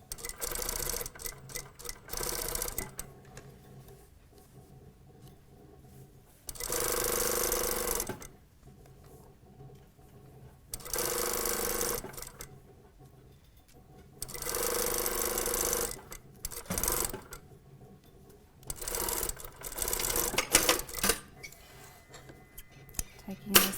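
A sewing machine stitching the side seam of a panel skirt runs in several short bursts of rapid mechanical whirring, separated by quieter pauses with faint handling noises, close by.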